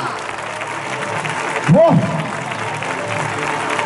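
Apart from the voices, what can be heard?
crowd applauding at a bullfighting event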